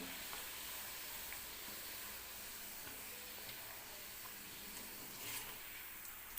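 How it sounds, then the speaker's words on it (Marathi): Pea-stuffed puris frying in hot oil, with a slotted spoon ladling oil over the top, give off a steady, moderately loud sizzle and crackle that lasts throughout, punctuated by brief scraping and splashing touches of the spoon. "तेल वरती सुद्धा पुरीवरती सोडून घ्यायचं असं झाऱ्याने"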